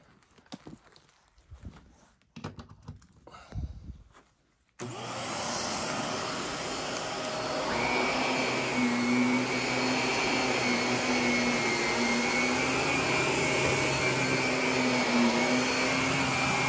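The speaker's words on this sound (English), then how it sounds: "So it's that time to start the vacuuming." A vacuum cleaner runs over a carpet, a loud steady motor drone that starts abruptly after a few seconds of quiet rustling and handling, then continues unbroken to the end.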